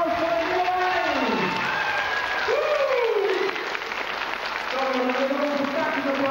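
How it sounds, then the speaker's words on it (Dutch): Audience of children and adults at a 1998 Cinderella-ball children's TV show applauds steadily throughout, a dense continuous clatter of clapping under a loud sung or spoken melody running over it. "prinsessen, jullie applaus geven"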